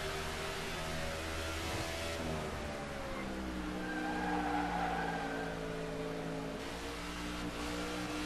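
Race car in a NASCAR racing video game (AdvoCare 500k) braking hard and skidding, a steady engine drone with tire scrub and a rising squeal near the middle, loud and continuous with no talking.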